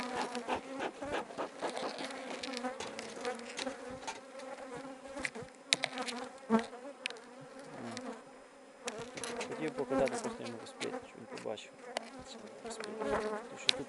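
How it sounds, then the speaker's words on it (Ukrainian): Swarms of honeybees buzz steadily around an apiary, a dense droning hum with individual bees zipping close past, rising and falling in loudness throughout. "Це бджоли. Це не ті бджоли, агресивні бджоли з іншої, з інших сімей. Літають."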